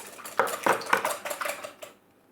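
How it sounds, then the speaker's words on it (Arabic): Clinking strokes of a utensil against a bowl while mixing pear cake ingredients with honey, several quick scraping taps in a loose rhythm, close and fairly loud, then quiet. "وغادي نخلط مزيان هاد المكونات."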